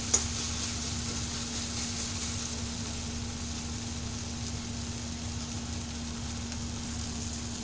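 Constant low sizzle of spices frying in a pan, steady and quiet, with a faint hum underneath and a single small click at the start.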